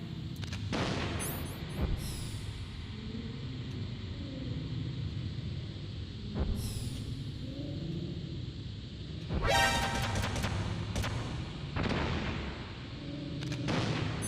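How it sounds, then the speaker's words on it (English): Turrets are blown up in an older classic video game, heard as heavy booming blasts and rumbling over a steady background of game sound and music. Sharper bursts break through near the start and again in the middle. "Blow up those turrets."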